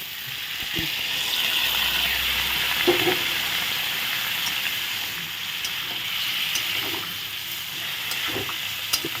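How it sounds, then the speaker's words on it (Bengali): Steady sizzling of vegetables frying in a pan, with occasional scrapes and clinks of stirring, close and continuous without talk. "পাঁচ মিশালি সবজি আমি আরও একটু ভালো করে নেড়ে কেড়ে কষিয়ে নিলাম"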